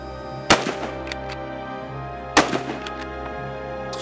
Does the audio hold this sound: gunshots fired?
yes